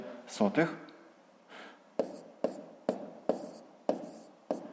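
Pen strokes on paper while writing numbers by hand for a fifth-grade math exercise, several short scratchy marks in an even rhythm, close and fairly quiet, following a brief voice at the start.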